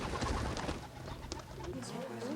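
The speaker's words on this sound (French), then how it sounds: "Puis, il y eut un bruit d'ailes rapide." A seagull's wings flap rapidly as it escapes, close and brief, with fluttering bird sounds over an outdoor murmur.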